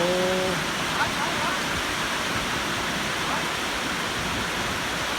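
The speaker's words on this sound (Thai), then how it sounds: "ฝนตกครับ" Heavy rain pours down outdoors as a constant, loud, hissing wash. A short voice sounds faintly at the very start, then only the unbroken downpour remains.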